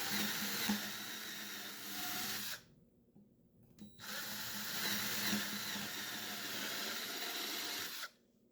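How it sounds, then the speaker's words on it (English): A power drill bores holes through wood for a scroll-saw Punisher head, two sustained whirring runs separated by a short pause, close and alone. "we have to drill holes in the eyes and in the nose hole"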